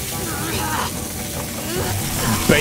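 A burning zombie in The Walking Dead video game sizzles and crackles steadily like frying food, with a voice talking over it.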